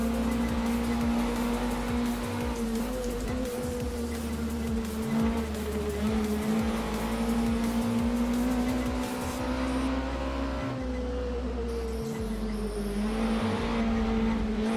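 Opponent race cars in Assetto Corsa sim racing, a steady droning engine note with shifting pitch and faint tire noise running continuously, moderately loud with no talk.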